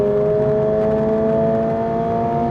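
A steady, loud engine drone from a Toyota GR86 sports car revving to 7,500 rpm, with a humming harmonic tone, holds throughout, close and constant, fading slightly at the very end.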